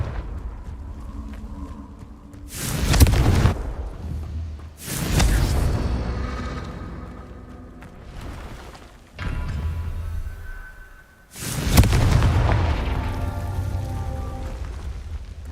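Confringo fire spells exploding in the game Hogwarts Legacy, four loud separate blasts a few seconds apart, each a sharp burst with a rumbling tail, between quieter ambient stretches.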